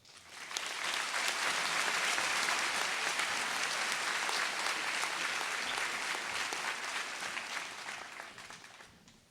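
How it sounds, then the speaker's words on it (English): Sustained applause from a crowd in the stands fills a high school senior assembly. The even clapping swells quickly, holds steady and fades near the end, sounding somewhat distant and soft. "the three can please turn to the stands for a round of applause"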